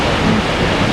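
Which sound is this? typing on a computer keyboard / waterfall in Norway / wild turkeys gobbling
waterfall in Norway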